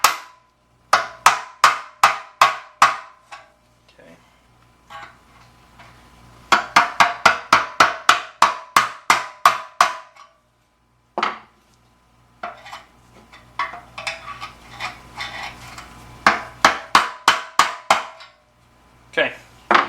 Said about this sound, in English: a little more persuasion with the hammer